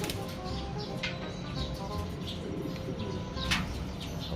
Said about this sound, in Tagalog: Lumalakas na yung mga ibon natin ngayon.